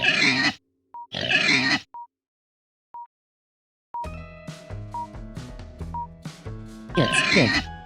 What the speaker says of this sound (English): It's pig.